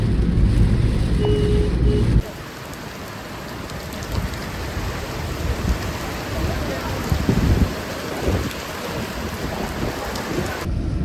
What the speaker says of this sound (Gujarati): અને જો અહીંયા વરસાદ ચાલી રહ્યો છે.